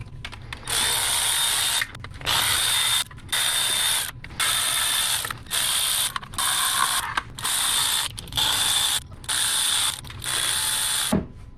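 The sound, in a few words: ratchet with 8mm deep socket removing MINI Cooper valve cover bolts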